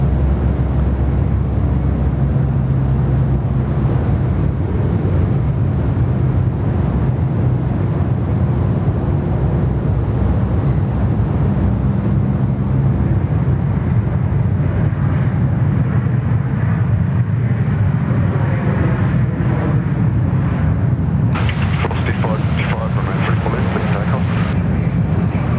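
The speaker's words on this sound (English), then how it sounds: "Nicely done there from the Jetstar 320" A Jetstar Airbus A320 passenger jet at Sydney Airport roars in a loud, sustained broadband rush that thins out toward the end, with wind buffeting the microphone.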